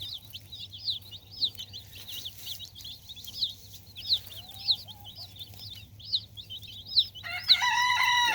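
Rhode Island Red chickens cluck and chirp steadily in a coop, broken by several crows, with a louder, close rooster crow near the end over a low background hum.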